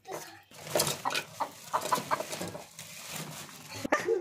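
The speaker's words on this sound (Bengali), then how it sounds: "না, দেখবা সেই মুরগি" Chickens sitting in a row cluck in short, irregular bursts, close and moderately quiet, with a sharp knock near the end.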